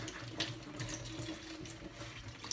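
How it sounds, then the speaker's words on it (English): Tap water runs steadily into a sink while a silicone drinking straw is washed under it, a continuous close splashing with small bursts of rinsing and no talk. "So I just go all smooth in my hands and then wash it all off."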